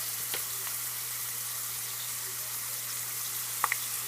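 Potato chips fry in oil over a lowered flame, giving a steady, close sizzle with a soft hiss that runs throughout and a couple of small pops near the end.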